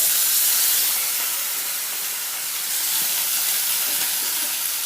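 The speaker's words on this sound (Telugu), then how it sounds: "కట్ చేసుకొని ఇట్లా నూనెలో వేయించుకుంటున్నా" A loud, steady sizzle of food frying in hot oil, a bright continuous hiss that barely changes, with no talking.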